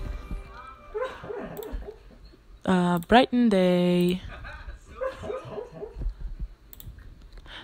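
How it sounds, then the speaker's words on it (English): A sleeping dog dreams out loud, giving a few seconds of strained, rising whimpers and a short yelping bark, loud and close, with people's voices talking before and after. "That's my dog, by the way, guys. She's sleeping, so she dreams really loud."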